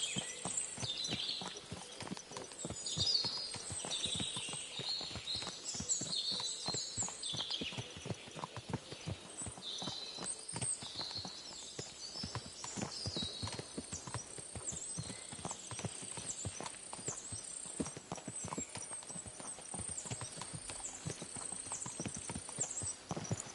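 Horse hooves clip-clop steadily in Kingdom Come: Deliverance II, a quick, even rhythm of crisp hoof strikes sitting fairly close, with faint birdsong chirping above and no talk.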